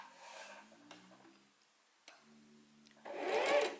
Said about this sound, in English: Stitch the center front with back stitch and then open the seam